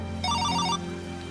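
A mobile phone ringtone chimes in a short melodic burst over a steady low hum in a room, then stops abruptly after about half a second.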